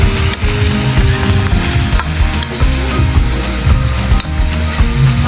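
Chopsuey vegetables with beans and greens sizzle loudly in a pan while being stirred, a continuous close frying hiss broken by scraping and clattering of the utensil.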